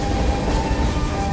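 Animated train rolling along the rails, a steady, dense rumble with a faint tonal hum running through it, continuous and fairly close for the whole moment.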